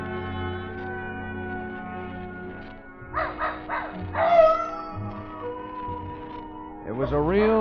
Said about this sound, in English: Old Nugget the dog was carrying on a long-distance conversation with his country cousins, the coyotes up in the hills